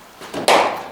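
A single crisp wooden crack of a cricket bat striking the ball during batting practice, close and sharp, preceded by a softer knock, with no talk over it.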